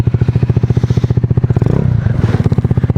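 A 2011 Honda Zoomer scooter with a swapped GY6 150cc engine starts up and settles into a rapid, loud, even idle putter close by.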